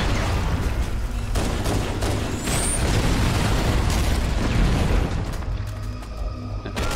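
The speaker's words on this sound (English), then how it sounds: "I threw a grenade at myself." Continuous rumbling booms and grenade blasts in the video game Halo: Combat Evolved, dense and loud throughout, with gunfire crackling in the mix.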